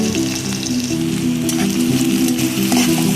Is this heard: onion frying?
yes